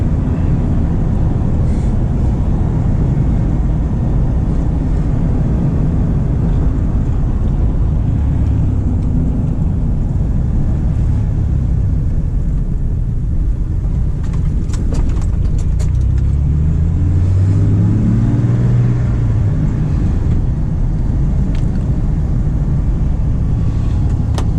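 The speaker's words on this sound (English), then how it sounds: "original steering pump, so of course it makes the obligatory Ford sounds." Engine of an old Ford Bronco with its original power steering pump runs steadily and loudly throughout, a continuous low rumble with a rising whine near the end.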